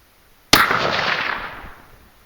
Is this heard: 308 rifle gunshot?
yes